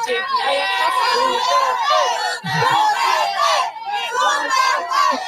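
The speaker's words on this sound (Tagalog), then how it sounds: "yung sigaw ng mga tao Duterte" A large crowd shouts and chants the name Duterte in a loud, continuous roar of many voices, with rising and falling bursts of yelling.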